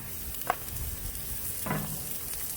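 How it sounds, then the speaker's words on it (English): Salmon burgers searing on an open grill give a steady, moderate sizzle throughout, with a couple of brief clinks or utensil taps over the frying. "I'm not gonna shut the dome on this. We're gonna leave this to sear right now."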